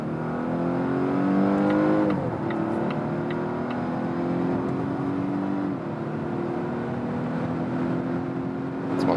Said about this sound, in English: Now the combustion engine is also set on, and I can use maximum power both from the combustion engine and also from the electric motor.